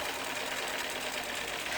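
A sewing machine fitted with a stretch needle stitches fabric, a steady, fast mechanical whirr running continuously and close, with no talk.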